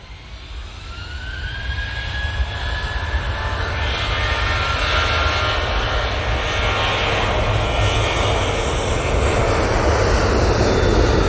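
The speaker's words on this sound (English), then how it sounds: "This Ryanair will be out next." A Ryanair jet airliner takes off at Manchester Airport: a loud, steady engine roar that swells and thickens over several seconds, with a rising whine on top and no talking.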